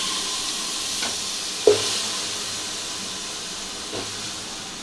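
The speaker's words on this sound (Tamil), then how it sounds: "இது எல்லாமே போட்டு நல்லா வதக்கிக்கிறோம்." Steady soft hiss and sizzle of bottle gourd, eggplant and drumstick frying in a pan for biryani dalcha, with a few light stirring scrapes and taps.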